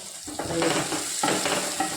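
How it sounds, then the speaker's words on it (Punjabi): Spices for a tadka in a home kitchen crackle and sizzle loudly in hot oil. A spoon stirs and scrapes the pan in two bursts, close by, with no talking. "ਚਲ ਦੇਖਦੇ ਹਾਂ ਤੜਕਾ ਲੱਗਣ ਦੇ ਨੂੰ"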